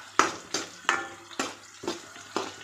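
Ingredients for a tomato, green chili and coriander chutney are fried and stirred in a pan, with about six rhythmic scraping strokes over a quiet, steady background hum.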